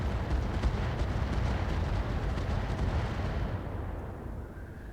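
Mech pulse lasers firing in the game Roguetech, a dense roaring burst of rapid crackling shots that holds steady and then fades out toward the end.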